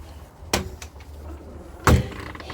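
A screen door on a new 2025 Sunset Park 15MB RV, heard as two sharp clacks about a second and a half apart, the second louder like a latch snapping shut, close by with no talking.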